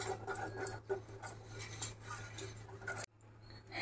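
A spoon stirring a vanilla powder mixture for shemai dessert, quick light clinks and scrapes against a bowl over a steady low hum, faint and close, ending abruptly.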